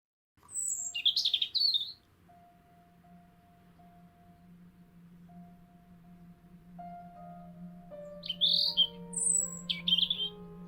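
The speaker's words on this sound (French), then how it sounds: "un rouge-gorge familier chante dans le laurier" A European robin sings from a laurel in a garden at dusk, delivering two bright bursts of high warbling phrases separated by a quiet stretch with a faint low hum and distant tones underneath.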